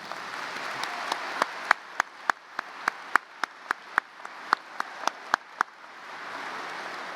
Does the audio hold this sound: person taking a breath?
no